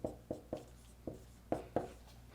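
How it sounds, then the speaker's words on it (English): Chalk or a marker taps and scratches across a board as a calculation is written out in a physics lecture, a series of sharp, close strokes in an uneven rhythm. "let me write that just a little bit lower"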